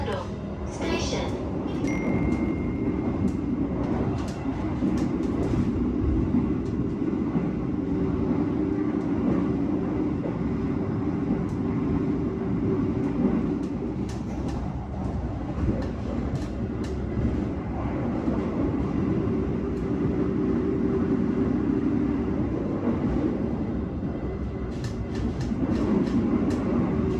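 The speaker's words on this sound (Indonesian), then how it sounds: "Kereta api Argo Wilis sudah diberangkatkan dari stasiun Surabaya Gubeng." The Argo Wilis passenger train runs on rails between Surabaya and Bandung, heard as a steady, continuous rumble from inside the carriage with faint rhythmic rail clatter. A voice speaks at intervals over it.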